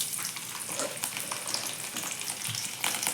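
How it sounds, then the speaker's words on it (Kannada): Oil heating in a pan for cooking at home gives a steady, close sizzle and crackle of frying that carries evenly throughout without any talk. "ಈಗ ಎಣ್ಣೆ ಕಾಯಕ್ಕಿಟ್ಟೀನಿ"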